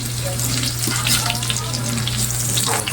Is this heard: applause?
no